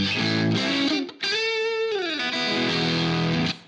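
Electric guitar run through a Fuzz Face pedal into a cranked Plexi amp model on a Helix Stadium, thick distorted chords ringing with a short gap and a bending note in the middle, loud and close.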